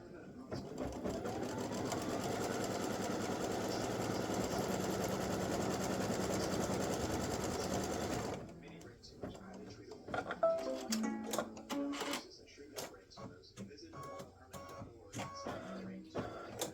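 An embroidery machine stitches an appliqué tack-down on gray fabric with a steady, fast mechanical whir for about eight seconds. Then it stops, and quieter clicks and handling noises follow.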